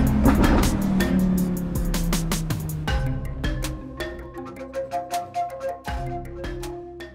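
Audi R8 driving through the streets of Monaco amid a parade of cars, near the bend by the Fairmont. A loud, close engine drone shifts pitch, then settles into a rapid series of rhythmic throttle blips and revs.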